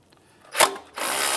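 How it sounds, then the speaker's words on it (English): A ratchet fitted with a 10mm socket loosens a strut bracket on a 2007-2013 Acura MDX, giving one short sharp burst of clicks followed by a steady, closer stretch of rapid ratcheting. "we need to remove this bracket off of the strut. A 10mm socket."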